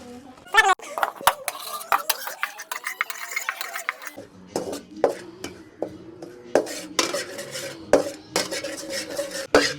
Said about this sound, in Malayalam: മച്ചന്മാരെ നമ്മൾ ചട്ടിയെല്ലാം ചൂടായിട്ടുണ്ട് മുളക് പൊടി ഇടുകയാണ്